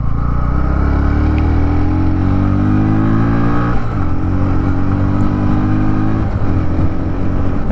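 A 2024 Bajaj Pulsar NS 125 motorcycle engine runs close and loud, revving up steadily with rising pitch, dropping briefly at each gear change and then pulling up again, with no talking over it.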